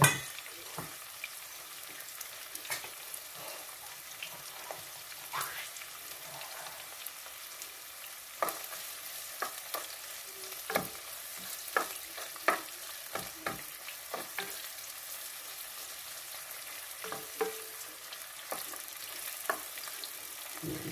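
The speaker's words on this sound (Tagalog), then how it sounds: "Prito-prito lang sandali yung ating bawang sibuyas." Garlic and onion fry in a pan with a steady sizzle, scattered stirring clicks and scrapes, no talking, continuing evenly throughout.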